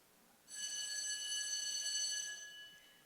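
Fire alarm ringing for about two seconds, a bright, steady electronic tone with strong harmonics that starts abruptly, holds evenly, then cuts off, heard at moderate distance in an otherwise quiet room.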